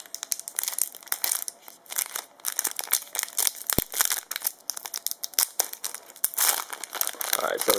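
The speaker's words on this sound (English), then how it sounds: "so let's get into the pack opening now" A foil Yu-Gi-Oh Legendary Collection 4 trading card pack is torn and crinkled open up close, with loud, busy crackling, rustling and tearing bursts throughout.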